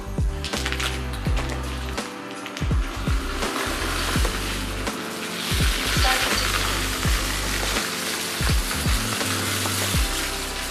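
A robot vacuum runs over rice and confetti on a hard floor, giving a steady mechanical drone and dense, gritty rattling as grains are swept up, with repeated low thumps through the clip.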